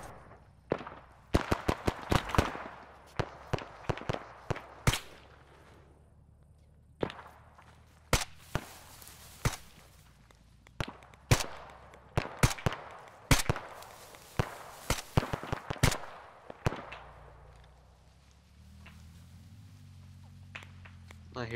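Gunfire in a military shooter: sharp, scattered single shots and short bursts crack out, some close and loud, others farther off, with a low engine rumble entering toward the end.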